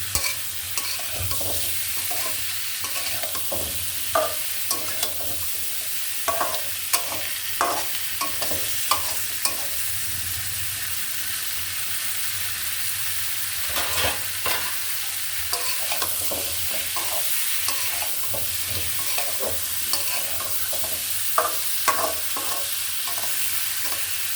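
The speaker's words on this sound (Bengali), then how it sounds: "শশাটা আমি ভালোভাবে কষিয়ে নেব" Cucumber is sautéed with spices in a pan for a hilsa fish curry, a steady sizzle broken by repeated rhythmic spatula scrapes and clacks in bursts throughout. No one speaks.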